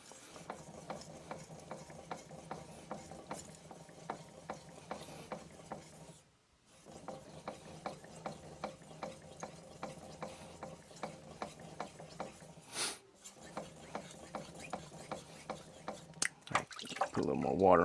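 A kitchen knife stroked back and forth on a wet 5000 grit Altstone Fukami whetstone, steady rhythmic scraping passes with a couple of brief pauses, close and moderately loud, ending in a few sharper clatters.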